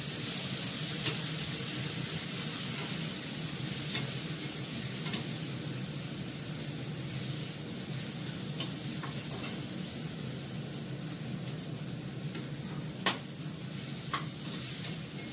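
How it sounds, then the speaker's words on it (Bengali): Cumin seeds and Kashmiri chilli powder temper in hot oil, a steady moderate sizzle with scattered pops and stirring clicks across the whole stretch, heard alone without talking. "একটু কাশ্মীরি লঙ্কার গুঁড়ো দিলাম, জিরে ফোড়ন দিলাম"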